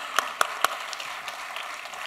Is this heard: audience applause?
yes